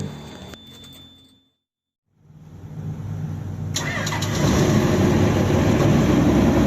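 The heavy diesel engine of a Sany SR150C bored pile drilling rig cranks briefly and falls silent, then catches and roars up, settling into a loud, rumbling run.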